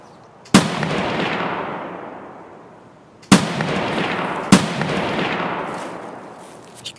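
Gunfire in the video game Escape From Tarkov, three sharp loud shots, the last two close together, each followed by a long rolling echo that fades slowly, with no voices.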